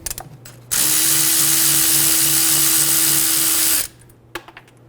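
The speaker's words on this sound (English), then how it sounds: "Using a 12mm socket, remove the bolt out of the back of the caliper." Power tool with a 12mm socket spinning out the bolt on the back of a rear brake caliper of a 2011-2014 Hyundai Sonata, making one loud, steady whirring run of about three seconds, with faint clinks before and after.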